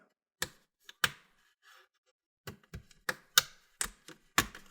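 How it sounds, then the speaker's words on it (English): Sharp plastic clicks and snaps as the bottom cover clips of an HP Envy x360 15m laptop come loose, several in irregular bursts with short pauses, close by and fairly crisp, no talking. "you're going to hear some clicking. Those are the clips that are getting loose."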